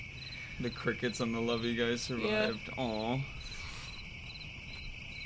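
Steady insect-like cricket chirping from the video game We Become What We Behold runs through the whole stretch, a constant high trill sitting beneath a few short spoken remarks.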